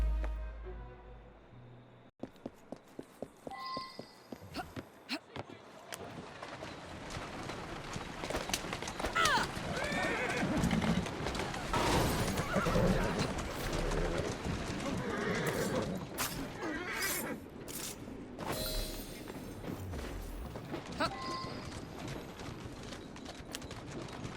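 A horse-drawn cart rolls through the streets of Victorian London in Assassin's Creed Syndicate. Hooves clip-clop steadily and the horse neighs, with game voices talking over the noise.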